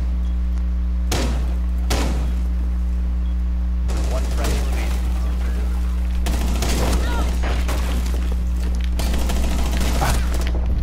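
Gunfire in the Rainbow Six Siege video game, several loud bursts of rapid shots separated by short pauses over a steady low electrical hum, with a voice talking between the volleys.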